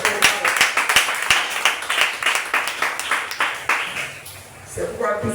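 A church congregation claps in a quick steady rhythm during worship, sharp repeated hand claps mixed with raised acclaiming voices, loud and close throughout.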